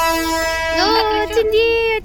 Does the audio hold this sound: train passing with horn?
yes